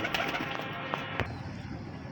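A female breeder pigeon coos softly a few times against low background noise, the calls faint and short.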